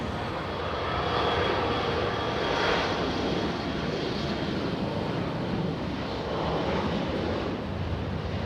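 Japan Airlines jet airliner flying past near LAX, a sustained loud engine roar that swells and fades gently over about eight seconds, heard alone without speech.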